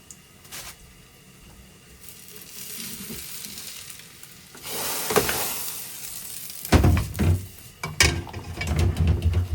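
Food sizzles and fries in a pan, a crackling hiss that grows louder, with stirring and clattering toward the end.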